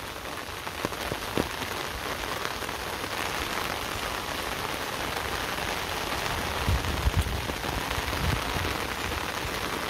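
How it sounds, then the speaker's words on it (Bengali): Heavy rain pours steadily onto surfaces, a dense, continuous hiss with scattered nearby drips and taps throughout, and no one speaking. "বৃষ্টি আর বৃষ্টি"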